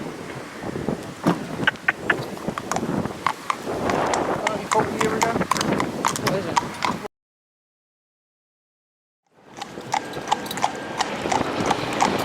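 Fell pony mare walking outdoors, her hooves clip-clopping in a steady, close rhythm with wind noise and people talking, broken by a few seconds of total silence before the hoofbeats resume.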